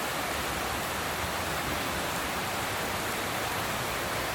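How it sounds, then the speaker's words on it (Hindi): Heavy rain pours down steadily in a dense, loud, unbroken roar of water with no gaps, like a downpour drumming on surfaces nearby. "गाइस बहुत ही तेज़ बारिश हो रही है"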